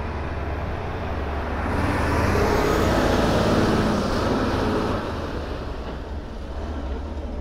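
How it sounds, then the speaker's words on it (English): A big truck rolls past close by, its broadband engine and tyre rumble swelling steadily in the middle of the stretch and then easing off, with no talk over it. "Big truck coming in."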